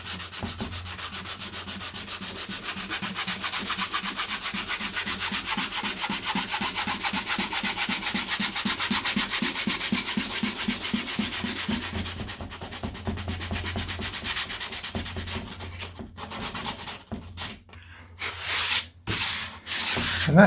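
Steady, close, continuous sanding of hardened body filler on a wing, a dense rhythmic abrasive rasp lasting a long stretch before breaking into a few scattered scrapes near the end, with no talking.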